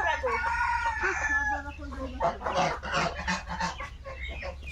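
Chickens on a duck and poultry farm clucking close by while a rooster crows with a drawn-out, wavering call at the start, followed by a busy overlapping chorus of squawks and clucks over a low hum.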